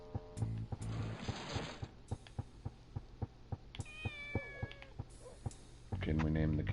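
A cat meows in a few short, clear calls between steady rhythmic thumping and a low hum, fairly close and moderately loud, with a voice briefly audible.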